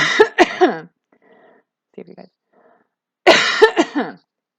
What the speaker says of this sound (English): So whenever I cough, see